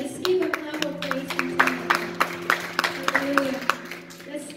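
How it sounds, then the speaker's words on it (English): A church congregation claps scattered and unevenly after a prayer while sustained tones play underneath, with voices mixed in. "Let's give a clap of praise."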